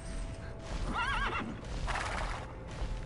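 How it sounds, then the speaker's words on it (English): A horse in the video game Tera whinnies once, a wavering high neigh, over a steady low rumble with faint background clatter. "No, that's a horse, not a flying mouse."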